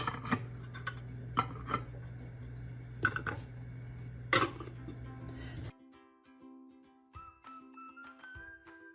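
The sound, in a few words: glass jars placed into a pot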